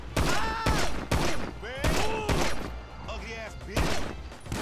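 Heavy bursts of gunfire in Grand Theft Auto V, loud clustered volleys at roughly one-second intervals, mixed with swooping tonal game sounds and a voice.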